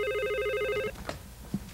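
A landline telephone rings loudly with a steady electronic warble for almost a second, then cuts off, followed by faint rustling and a soft thump in a quiet room.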